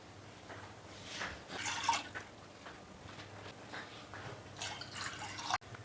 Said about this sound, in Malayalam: വെള്ളം നന്നായിട്ട് തിളച്ചിട്ടുണ്ട്.